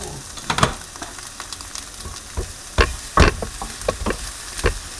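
Shrimp for fried rice sizzle in a hot pan while being stirred and broken up, with repeated scraping and clacking strokes of a utensil over a steady frying hiss, close and fairly loud.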